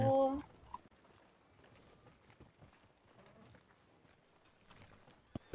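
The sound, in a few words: horse hooves in video game Red Dead Redemption 2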